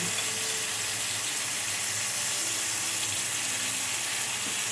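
Steady, dense hiss and crackle of galunggong fish frying in hot oil, continuous and fairly loud throughout.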